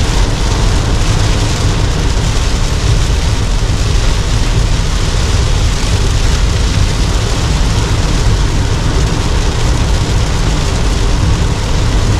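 Heavy rain pounds a car during a long highway drive in Taiwan, a loud unbroken roar of water and road noise that holds steady throughout.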